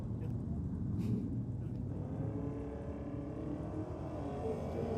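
Drag racing cars, a Ford G6E with Barra engine and a 408 cubic inch Windsor-powered XB Falcon, roar down the strip at a Sydney cash days shootout, a steady faint engine drone with a voice over it.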